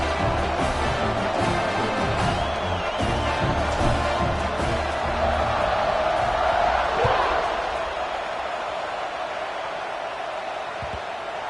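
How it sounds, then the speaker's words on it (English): A football stadium crowd buzzes after a score, a loud, steady roar of many voices that eases slightly toward the end. "this crowd is buzzing after that last score"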